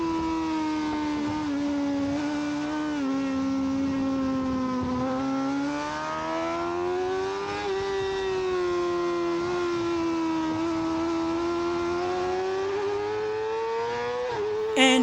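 A Yamaha R6 sport bike racing in an amateur open sprint, its engine screaming at high, sustained revs with gentle pitch rises and dips as it holds speed toward the finish line.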